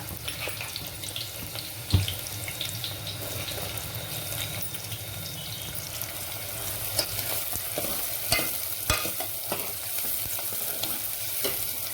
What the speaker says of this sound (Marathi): कांद्याला छान गुलाबीसर होईपर्यंत तळून घेऊ मस्तपैकी